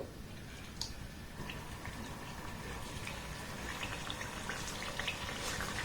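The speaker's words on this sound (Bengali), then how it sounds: "এবার যে পিঠেগুলো বানিয়েছি এই তেলের মধ্যে আমি দিয়ে দেব।" Semolina pitha sizzling as the pieces go into medium-hot frying oil, a steady dense crackle and bubbling with a few sharper pops, close and moderately loud throughout with no voices.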